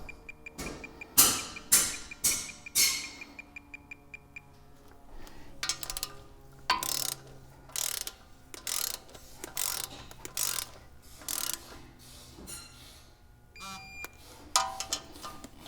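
A torque wrench ratchets as knuckle bolts are tightened on an 80 Series Land Cruiser, with a rapid run of clicks followed by repeated bursts of metallic ratcheting in a steady rhythm, close up, with faint talk in the background.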